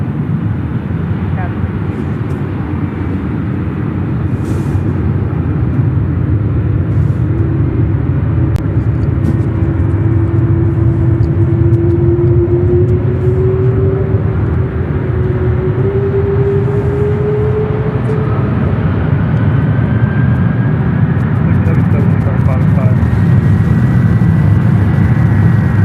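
FedEx heavy jet departing Memphis International Airport and climbing, a loud sustained engine rumble with a slowly shifting whine gliding through it, continuous for the whole stretch.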